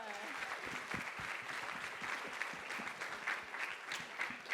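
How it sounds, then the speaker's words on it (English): An audience applauds at a women in sports panel, a sustained, fairly distant wash of many hands clapping at an even level for several seconds, with faint voices audible beneath it. "A round of applause for that."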